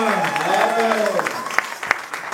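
A church congregation claps and cheers at a French-language revival service as fathers are called to applaud, steady clapping with a sung or shouted voice rising over it and a few sharp claps standing out.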